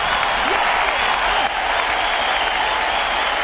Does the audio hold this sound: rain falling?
no